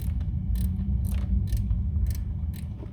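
Close metallic ratcheting and clicking from a wrench tightening a long-threaded bolt on the alternator of a 2003 Peugeot 206 GTi 140. Short, repeated clicks ride over a low, steady rumble.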